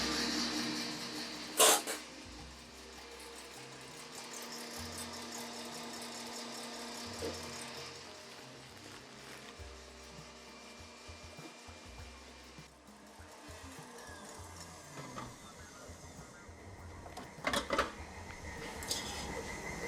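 An electric mixer whips egg whites with sugar for a bûche biscuit, a steady motor whir that rises and falls as the beaters move, with occasional clanks against the bowl and no speech.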